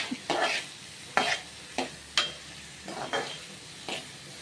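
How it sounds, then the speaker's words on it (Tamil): Chopped onions frying in oil in a village-style chicken gravy are stirred with a utensil, giving about seven evenly spaced scraping sweeps over a continuous soft sizzle, close and clear with no talking. "கட் பண்ணி வைத்த வெங்காயத்தை போடவும். போட்ட பிறகு நன்றாக ஆட்டவும்."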